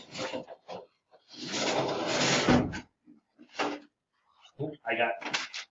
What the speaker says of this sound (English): One never knows what I can find in a drawer full of drawers.